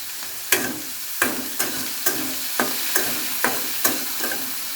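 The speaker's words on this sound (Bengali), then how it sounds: "এখন কিছুক্ষণ নাড়াচাড়া করে নেব" Whole spices (cinnamon, cardamom and bay leaf) stirred in hot oil in a cooking pan: evenly spaced scraping strokes about every two-thirds of a second over a soft continuous sizzle, close by and alone.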